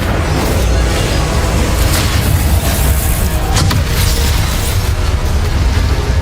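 The Incendio fire spell in Hogwarts Legacy roars out as loud, continuous booming blasts with crackling bursts, densely packed and filling the whole stretch without a break.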